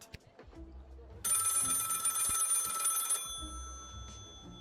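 A telephone rings in the video game Lil Guardsman, one sustained bright electronic bell trill lasting about two seconds amid soft background clicks and sounds, with no speech.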